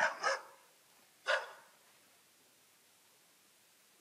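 Husky dog vocalizing indoors, two short yelping barks close together, then a single bark after a pause, fairly close over a quiet hiss of room noise.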